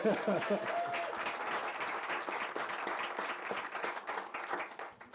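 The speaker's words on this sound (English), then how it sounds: "Give him a round of applause for that." An audience applauds a school teacher, a steady run of clapping that rises quickly and holds for several seconds, with a voice speaking briefly at the start.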